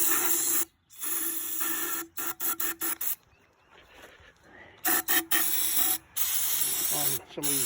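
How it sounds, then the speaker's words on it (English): An aerosol can of carburetor cleaner sprays in a series of hissing bursts, some long and some short, with brief pauses between them, close to the listener, onto the joints of a 35-year-old lawn mower. "I'll spray carburetor cleaner."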